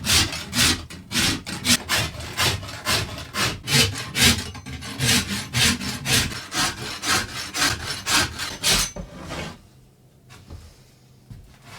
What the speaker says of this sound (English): that's the rasping done, and it's looking a bit cleaner on the sides there